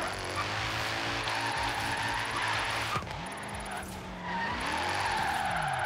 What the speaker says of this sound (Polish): Ale jak widzicie, da się driftować tym samochodem.